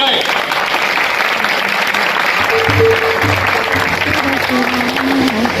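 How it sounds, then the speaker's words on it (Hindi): A church congregation applauds in a steady, loud wash of clapping that holds throughout, with a voice and low tones coming in partway under it. "खुदावंद के लिए ताली लगाएं"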